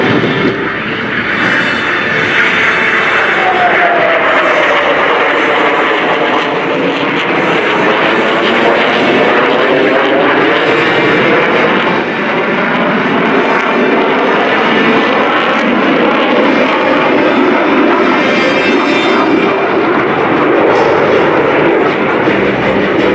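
An F-22 Raptor and T-38 Talon jets pass overhead in formation at an air show, a loud sustained roar swelling and shifting as they fly by.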